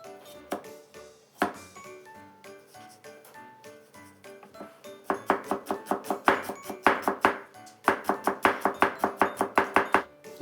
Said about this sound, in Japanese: じゃあまず香味野菜切っていきますかね